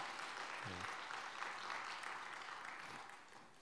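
A church congregation at a Wednesday service claps together in a steady, even round of applause, with a brief voice heard near the start.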